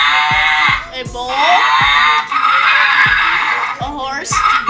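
Electronic horse whinny played through a tractor horn PA system, loud and close, with repeated whinnying calls over a steady synthetic background tone.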